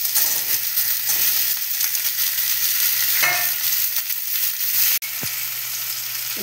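Tomato frying in a pan for chili paneer, a loud, steady sizzle throughout with a brief stirring scrape and a sharp knock near the end, no talking.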